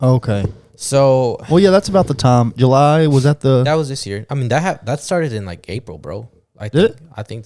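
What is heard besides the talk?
No everyday noise stands out behind the speech.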